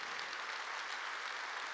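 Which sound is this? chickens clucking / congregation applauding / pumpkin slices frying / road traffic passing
congregation applauding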